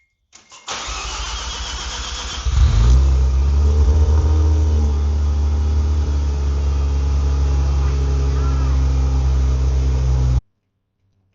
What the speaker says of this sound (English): try to turn the car on.